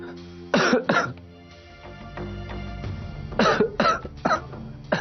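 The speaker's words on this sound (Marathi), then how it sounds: "खोकला कसं काय झालं तुला अचानक?" A man in a Marathi TV serial scene coughs in two clusters of harsh bursts, close and fairly loud, separated by quieter room tone, with a brief throat-clearing quality.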